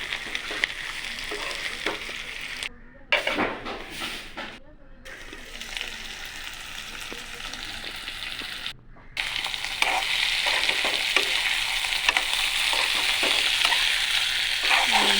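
Bitter gourd fries in a wok with a bright, continuous sizzle and repeated scraping stirs, loud and close, with a few brief gaps and the frying growing stronger toward the end.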